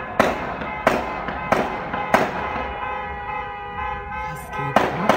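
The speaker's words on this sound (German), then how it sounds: "Und die schießen." Gunshots fired during a Turkish wedding celebration in the middle of the street: a series of sharp, loud cracks spaced under a second apart, ringing out over a noisy background crowd.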